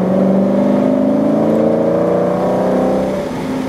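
A Nissan Silvia race car accelerates hard on a track, its engine a loud, close, sustained roar that rises in pitch before easing slightly near the end.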